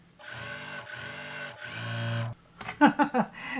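Sewing machine stitching rows of a potato chip quilt block together: three steady mechanical whirring runs of the motor and needle, with short pauses between them, followed by a few clunky, uneven clacks as it stops, close and fairly quiet.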